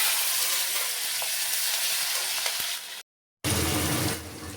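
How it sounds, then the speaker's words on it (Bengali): Black cumin, tomato and green chili frying in hot oil give a loud, steady, close sizzle. After a brief silent break, a slightly deeper, bubblier sizzle follows. "তেল গরম হয়ে গেছে, এখানে আমি কালো জিরে দিয়ে দিচ্ছি, তারপর এখানটা টমেটো আর কাঁচা লঙ্কা দিয়ে দিচ্ছি।"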